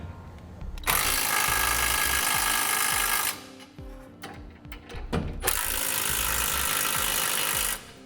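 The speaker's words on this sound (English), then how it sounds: "Now we'll tighten down our rails to our center section using a 3/4 inch socket." Ratchet with a 3/4 inch socket tightening the rail bolts of a Curt Double Lock flip-and-store gooseneck hitch, loud close rapid clicking in two long bursts separated by a pause of scattered metallic clanks.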